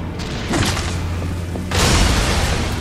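An exploding bomb plant in the Darksiders video game sets off a deep boom that swells, then a second louder blast that lingers as a rumbling wash.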